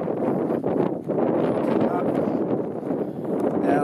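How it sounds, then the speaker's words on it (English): Strong wind at a volcanic crater field in Idaho buffets the microphone with a continuous loud roar and rumble, gusting unevenly throughout with no talking. "Wind is really picking up."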